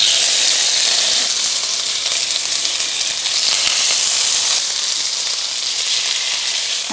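Meat sears in a hot oiled pan for a Greek dish, a loud, dense, continuous hiss and sizzle close up, shifting slightly in intensity but never pausing, with no voices.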